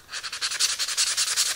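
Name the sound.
sanding wood end grain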